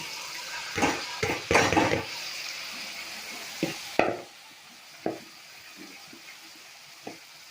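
Rice being stirred and mixed in a pan, a few scraping clatters of a spoon against metal in quick bursts early on, then sparse isolated knocks trailing off into near quiet.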